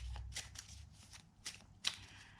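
Tarot cards being shuffled by hand in quick, riffling bursts, with several short rustling flurries and a sharper snap near the end, close and fairly quiet.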